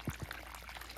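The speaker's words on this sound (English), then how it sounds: "I'm putting a lot of water, like a lot, really getting it hydrated" Non-chlorinated water poured from a container into a hanging basket planted with sweet peas, a steady close-up trickle and splash into soil after a couple of brief low thumps at the start.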